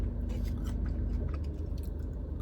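Crunchy, oil-drenched burger restaurant fries topped with Parmesan cheese are chewed close up, a continuous wet crunching and mashing with no talk.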